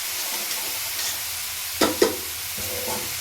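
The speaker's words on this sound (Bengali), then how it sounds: "এবারে চলে যাবে চালটা এবারে যত ভালো করে নাড়বে তত পোলাওয়ের স্বাদ" Rice for basanti pulao is stirred and fried in a pan, giving a soft continuous sizzle broken by a few sharp scraping strokes of the spoon.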